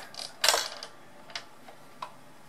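A Bruder Scania toy fire truck has its plastic hose reel cranked back in, making a close, quiet ratcheting creak followed by a few sparse clicks and ticks.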